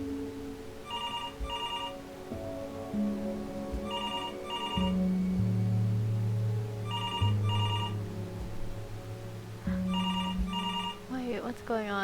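Telephone bell ringing in the video game Before Your Eyes: four paired double rings, evenly spaced about three seconds apart, over a low sustained musical drone, with a brief voice near the end.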